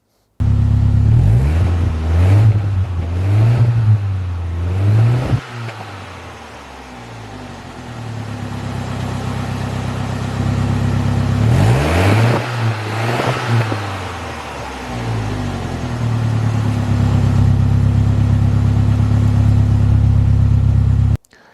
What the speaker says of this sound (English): they put inverted glass pack mufflers on it, which I guess is an old hot rodder trick to make the car quieter. It sounds all right.